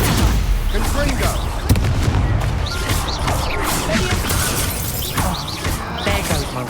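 In the video game Hogwarts Legacy, the Confringo spell sets off crashing blasts and shattering impacts, loud and dense amid a chaotic duel, with shouted voices over the repeated bursts.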